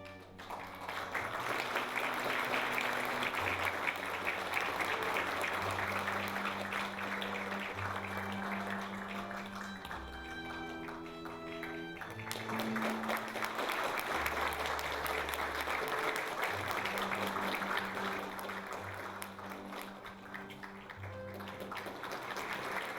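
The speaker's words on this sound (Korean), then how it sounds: "큰 박수 부탁드리겠습니다" Audience applause at an honorary doctorate ceremony rolls on continuously for over twenty seconds, broad and full, with music playing underneath throughout.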